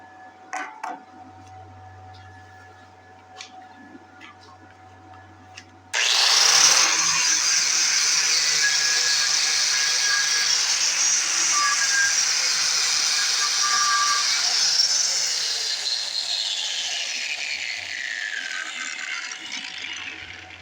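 An angle grinder bites into a steel backhoe bucket, starting abruptly and screaming loudly and steadily for about fifteen seconds, its pitch shifting as the disc loads and eases, after some quiet shop hum and faint taps.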